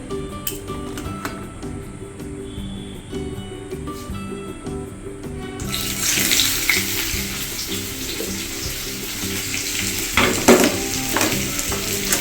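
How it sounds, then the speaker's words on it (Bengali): Bay leaf and onions go into hot oil in a home kitchen pan, starting with quieter background sounds and then breaking into loud, continuous sizzling and crackling frying, with stirring scrapes near the end. "তেজপাতাটা দিয়ে নেব পেঁয়াজগুলো দিয়ে দেবো"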